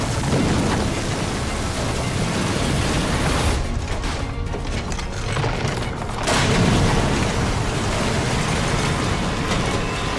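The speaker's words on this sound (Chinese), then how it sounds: "殊不知更大的爆炸点再次降临" A large explosion in a film scene, a blast tearing through a burning snack street: a dense, roaring wall of rumbling noise that thins briefly midway, then surges back at full strength, with no voices.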